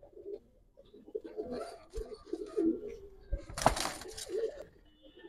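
Giribaz pigeons at a pigeon farm in Old Dhaka coo in soft, low bursts, close by, mixed with rustling and a few sharp clicks and knocks.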